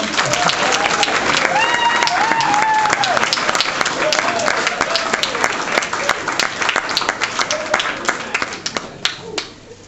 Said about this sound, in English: can we have a bit of a clap and cheer for us?